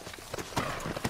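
Horse hooves clip-clop on the ground in the video game Red Dead Redemption, a quick run of close, distinct steps with no talking.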